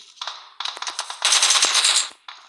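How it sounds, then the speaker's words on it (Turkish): Rapid bursts of automatic gunfire in PUBG, loud and close, in several clipped volleys with brief gaps between them. "şuna silah sesi geliyor"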